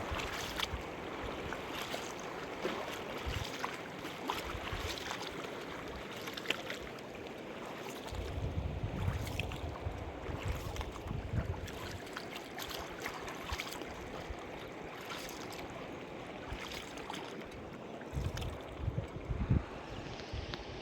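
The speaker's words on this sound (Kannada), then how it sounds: "ಈ ಥರ ಹೊಳೆನ ದಾಟ್ಕೊಂಡು ತೆಪ್ಪದ ಮೂಲಕ ಹೋಗ್ತೀವಿ" Steady rush of the high Kaveri river with wind buffeting, a coracle moving across the current, occasional knocks and splashes, no talking.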